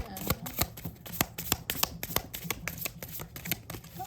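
Tarot cards are riffled and shuffled by hand in a rapid series of crisp flutters and snaps, close up and fairly loud, with no talking.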